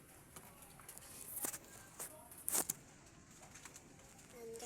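Pigeons moving about in a breeder's loft, with faint scuffs, wing flutters and a couple of sharper flaps over quiet background ambience.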